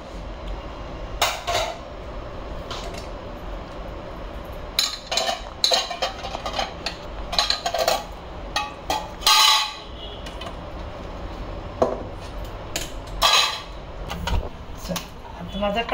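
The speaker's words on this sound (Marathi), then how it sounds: "मी आधी हे तांदूळ आणि सगळं धुवून घेते" Rice for khichdi being washed in a metal vessel in a home kitchen, heard as irregular bursts of clinking and scraping that come and go over a steady low background hum.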